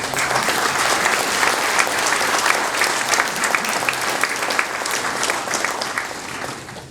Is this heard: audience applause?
yes